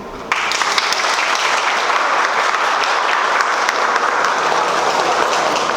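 An audience at a thesis presentation breaks into loud, sustained applause that starts abruptly and holds as a dense, even roar of clapping hands throughout.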